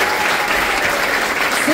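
Concert audience applauding a string quartet at a Latvian Republic proclamation anniversary concert, a dense, steady wash of clapping from a large crowd that continues unbroken through the short moment.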